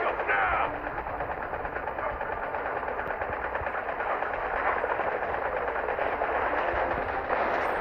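Loud, continuous rapid gunfire rattles from the video game Modern Combat 5, a dense, unbroken barrage with heavy low booms of explosions beneath it.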